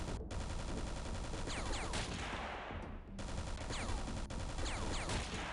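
Sustained rapid gunfire from a turret battle in the X-piratez strategy game, dense overlapping bursts with metallic ricochet whines, continuous and loud apart from a brief lull near the middle.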